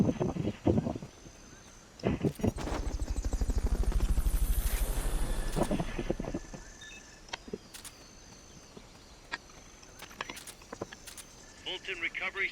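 A helicopter in the Metal Gear Solid Peace Walker video game during a Fulton recovery, swelling into a loud, pulsing rotor chop that peaks and fades over a few seconds, with sharp game effects around it.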